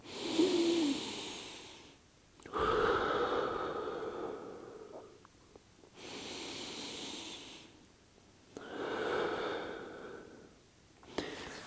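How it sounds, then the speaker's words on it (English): Slow, deep belly breaths during a lying low back exercise, each long airy inhale and exhale close to the microphone, separated by short quiet pauses, repeated about four times. "big, deep belly breaths for 1 minute"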